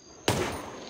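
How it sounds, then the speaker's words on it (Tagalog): A sudden loud burst of gunfire from bandits bursts out of quiet background noise, a single sharp report that rings and decays over the following second with no talk over it. "Sobrang putok ito."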